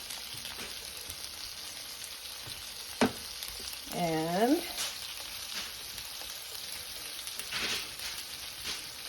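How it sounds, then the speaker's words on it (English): Steady broadband sizzle of sausages frying in a pan, constant hiss with a few brief clatters and a short voice fragment. "Then you put them back in the same frying pan you fried them in."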